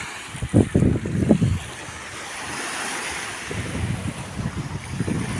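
Sea waves washing onto the shore, repeated surges of surf with rushing wind noise on the microphone, fairly close and loud with no talking.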